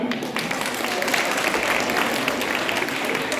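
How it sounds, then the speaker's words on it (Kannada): Applause at a school annual day for class 3A children: a steady wash of clapping from an audience, fairly loud and sustained for the whole stretch. "ಬರಲಿ ನಮ್ಮ ಕಿಬಟ್ಟಿನ ಕ್ಲಾಸ್ 3A ಮಕ್ಕಳಿಗೆ ಜೋರಾಗಿ ಚಪ್ಪಾಳೆ"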